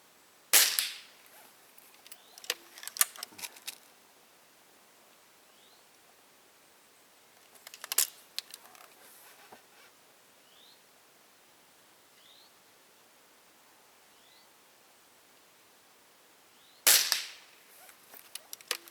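FWB Sport air rifle with open sights fires at a 45-metre range: three sharp cracks well spaced apart, each followed by faint metallic clicks of reloading in otherwise quiet outdoor surroundings.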